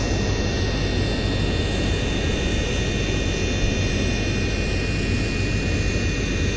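Steady, loud jet engine roar inside a Dassault Falcon 7X business jet descending toward landing at Faro, Portugal in a flight simulator game, with a continuous broadband hum and faint high tones and no talking.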